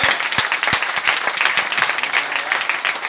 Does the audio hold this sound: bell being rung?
no